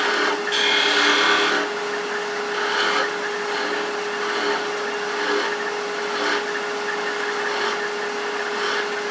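A wooden spin top is parted off on a spinning wood lathe, a steady scraping whir with a constant motor hum and repeated brief surges of cutting noise, close and loud with no talk.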